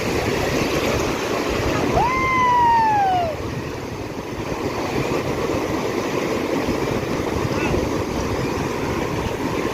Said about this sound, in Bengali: ঢেউগুলো আসছে, পুরো পাটা ধুয়ে চলে যাচ্ছে, আবার ঢেউ আসছে